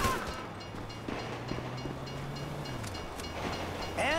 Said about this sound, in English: If you were local, you'd know the train comes by right now.